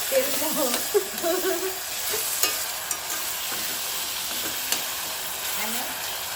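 Tomatoes, onion and garlic sautéing in oil over a low gas flame, a steady close hiss of frying with occasional stirring knocks, and a voice talking faintly near the start and end.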